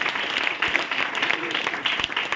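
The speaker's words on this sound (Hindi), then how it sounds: "जोरदार डॉक्टर के लिए ताली बनती है।" An audience bursts into steady, dense applause for a doctor at a health talk, a continuous wash of many hands clapping fairly close, with a voice faintly underneath.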